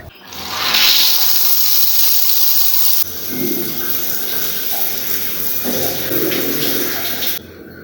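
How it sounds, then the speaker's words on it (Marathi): Shower water runs steadily in a home bathroom, a continuous hiss and spatter that shifts in tone partway through as the flow is moved, with no talk. "थोडा आता फ्रेश होऊन जातो, त्याच्याकरता शॉवर घेऊन घेतो आधी मी."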